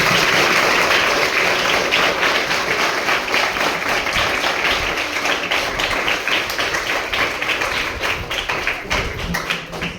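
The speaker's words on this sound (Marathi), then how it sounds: "सगळ्यांनी जोरदार टाळ्या." An audience at a Savitribai Phule birth anniversary function applauds loudly and steadily, a dense wash of clapping that carries on throughout and eases slightly toward the end.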